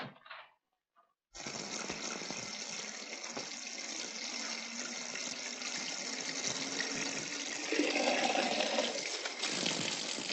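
A tap at a railway station pours water in a steady, loud, close stream that runs unbroken for most of the stretch after a brief quiet start, with its tone shifting slightly toward the end.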